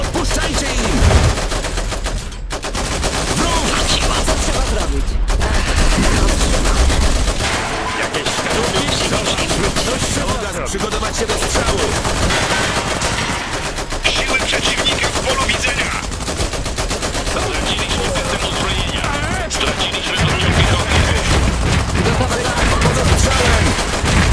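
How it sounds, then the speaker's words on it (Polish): Sustained machine gun fire and rapid gunshots fill the WWI-style strategy game Iron Harvest, dense, loud and continuous bursts of battle noise with only brief gaps throughout. "Tu CKM!"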